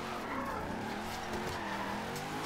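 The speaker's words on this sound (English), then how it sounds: "It's got the power in gear 3 and it's got the tire spin in gear 3 as well" A Ford Escort drifting in Forza Horizon 2, its tires spinning and squealing in third gear over a steady engine roar, loud and continuous throughout with no voices.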